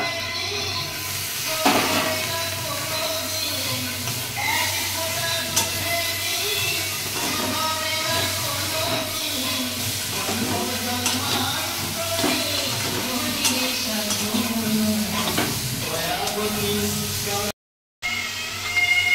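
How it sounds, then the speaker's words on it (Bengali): Mushrooms frying in a pan with red chilli powder, stirred now and then, giving a steady close hiss with scattered scraping knocks and a brief dropout near the end. "নেড়ে চেড়ে এবার আমি মাশরুমগুলো দেবো"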